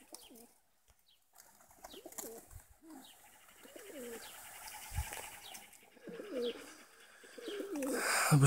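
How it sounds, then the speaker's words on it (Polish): A flock of pigeons coos in repeated soft, rolling calls, including a large black pigeon, with occasional wing flaps and faint chirps. The sound is moderately close and fairly quiet, with no talking. "Czarny, potężny gołąb."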